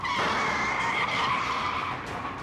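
A car brakes hard with tires skidding in one long, loud, steady squeal lasting a couple of seconds, heard alone and close, from a taxi in a drama.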